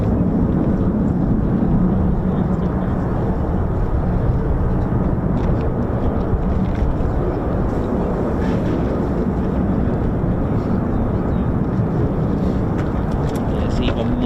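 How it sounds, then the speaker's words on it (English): F-35 fighter jets taxiing at RAF Lakenheath, a steady low broadband engine roar that holds loud and even throughout with no breaks. "There's even more F-35s just taxied."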